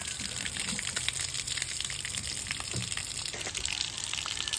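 Fresh water gushing from a village drinking-water source, a steady, close splashing flow that stays constant with no speech.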